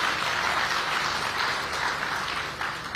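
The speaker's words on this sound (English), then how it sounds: "Let's give them a round of applause." Steady applause from the audience at the closing ceremony of the Kilifi County International Investment Conference, a dense even wash of clapping that runs the whole time without letting up.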